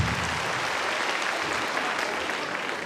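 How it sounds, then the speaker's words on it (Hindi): An audience bursts into steady applause at a business opportunities meeting, a dense, even wash of many hands clapping that carries on without a break. "आप लोग तो जोरदार ताली होना चाहिए आप लोगों के लिए"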